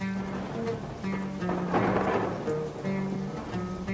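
Steady rain sound effect in a Malayalam audiobook: a continuous wash of falling rain that swells briefly in the middle, layered with soft sustained low tones and no voice.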